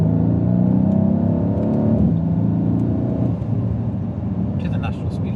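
2022 Mercedes GLC 63S AMG with its V8 accelerating hard in Sport Plus mode, a steady deep engine roar heard from inside the cabin that eases slightly toward the end.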